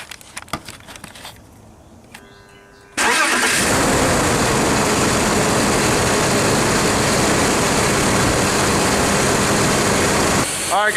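A BMW E46 with all six injectors freshly replaced cranks and fires after a few clicks. The engine then settles into a loud, steady running note close by.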